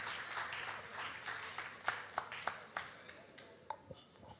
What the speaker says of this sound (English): Please give her a round of applause as she comes to the floor here